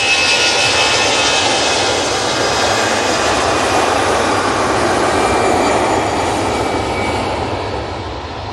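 A KLM jet airliner taking off from Manchester Airport, bound for Amsterdam Schiphol: a loud, continuous roar of jet engines that holds steady, then slowly fades as the plane climbs away.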